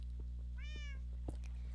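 A cat in the Minecraft video game gives a single short, clear meow over a low steady background hum, with a few soft clicks around it.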